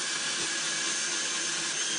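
Power drill boring into a solid wood hockey stick, a steady continuous whine held loud and close for the whole stretch, with no voices over it.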